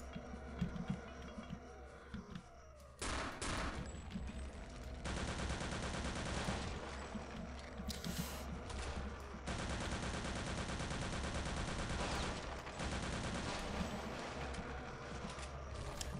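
Gunfire in the video game Return to Castle Wolfenstein, dense overlapping bursts and rapid automatic shots, fairly faint overall, continuing for the whole stretch with shifting intensity.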